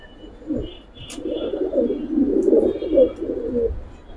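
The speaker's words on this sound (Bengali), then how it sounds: "রেঞ্জের কবুতর" Giribaz pigeons in a loft in Old Dhaka coo in a low, rolling series of close, moderately loud calls, with a few soft chirps and no talking.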